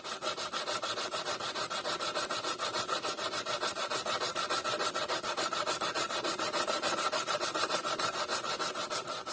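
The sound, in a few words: blade being rubbed flat on sharpening stone or sandpaper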